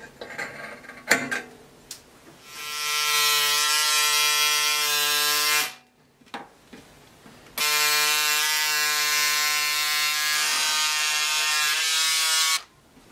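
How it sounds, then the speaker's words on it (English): An electric cutter trims fabric along the back neckline of a blouse, a close, steady motorized buzz in two long runs separated by a short pause, with faint handling noises before it starts. "I will cut out the back neckline"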